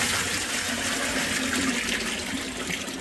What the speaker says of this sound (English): I'm now going to dump the whole thing quickly to rinse it.